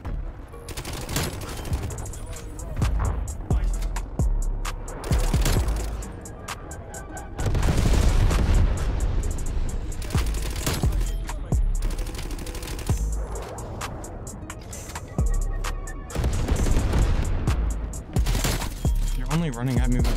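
Shotgun and other gunfire in Call of Duty Cold War multiplayer, loud repeated blasts and automatic bursts throughout, with booms and a voice talking over the action.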